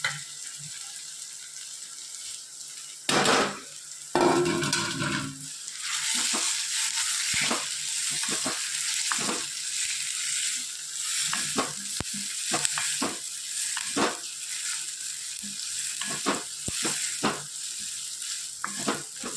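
Onions and tomatoes frying in a pan for sev tameta, a steady close sizzle broken by repeated scraping, clattering stirring strokes, with a louder rush as more ingredients go in.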